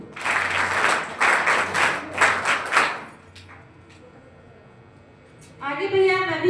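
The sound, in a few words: audience applause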